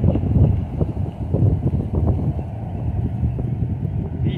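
Wind blowing outdoors at a fishing spot, a dense low rumbling buffet against the microphone that holds steady and fairly loud throughout, with no voices.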